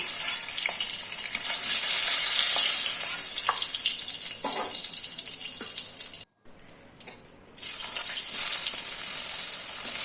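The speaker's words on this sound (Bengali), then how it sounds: "ওই তেলের মধ্যেই আমি বেগুনটা অল্প করে নুন হলুদ মাখিয়ে ভেজে নিচ্ছি" Brinjal pieces coated with salt and turmeric fry in a karai of oil rendered from hilsa fish, giving a steady, loud sizzling hiss that drops out briefly midway, then returns at full strength.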